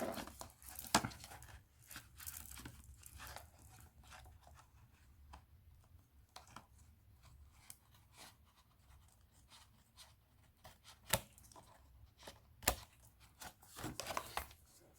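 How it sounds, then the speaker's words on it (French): Scissors snipping through paper while assembling a scrapbook photo album, a series of sharp, irregular close cuts and crinkles with quiet pauses between, no talking. "je vous déconseille les ciseaux normalement pour ça, mais bon, là, pas trop le choix"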